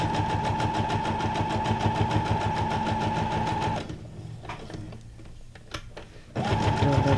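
Sewing machine stitching junk journal paper ephemera, humming in a steady fast run, pausing briefly with small handling clicks and rustles, then starting up again.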